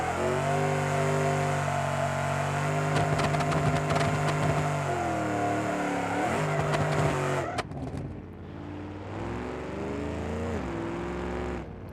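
A car in the BeamNG.drive driving game, fitted with a new differential, revs loudly and steadily as it does a burnout, its engine tone climbing and dipping before dropping off sharply partway through and then carrying on more quietly.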